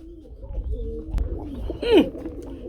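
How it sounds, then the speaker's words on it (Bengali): A domestic pigeon coos at close range, a low throaty rolling call ending in a louder swelling coo, with faint background murmur and a brief knock midway. "এই যে দেখেন মাশাআল্লাহ ডাকের কবুতর"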